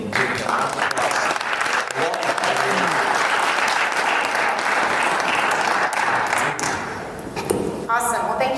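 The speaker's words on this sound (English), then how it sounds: "join me in giving a round of applause" Audience applause for a speaker at a corporate recruiting talk, a dense, steady wash of many hands clapping, loud and sustained throughout before easing slightly near the end.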